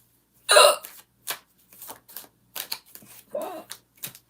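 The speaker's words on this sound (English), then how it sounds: "Now I got hiccups." Repeated hiccups from one person, about six short, sharp bursts spaced unevenly over four seconds, close to the microphone and alone with no talking.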